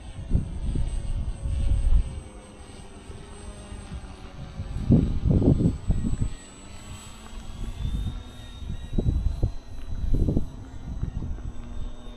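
An FMS Ranger 1220mm RC plane flies in windy weather, its small electric motor whining faintly overhead while gusts rumble loudly against the microphone in repeated low bursts.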